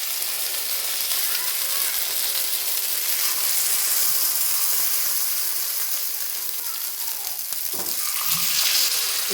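Ponganalu dumplings fry in hot oil in a village kitchen, giving a steady close sizzle throughout, with a few clicks and a clatter near the end.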